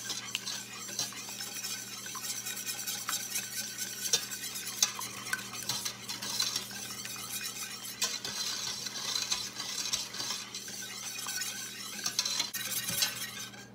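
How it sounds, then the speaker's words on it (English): Two eggs are whisked into a batter in a bowl, a steady rapid clicking and scraping of utensil against the dish that carries on throughout, close and alone. "Add 2 eggs. And mix it all up."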